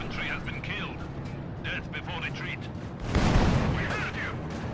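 A bundle grenade bursting during a Company of Heroes 2 battle, one loud blast rolling out over steady gunfire and other combat noise, with a voice talking over it.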